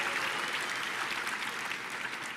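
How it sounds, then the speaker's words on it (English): Graduating class of 2018 applauding themselves at an undergraduate commencement ceremony: steady, dense crowd applause, moderately distant, continuing without a break. "applaud yourself, sure."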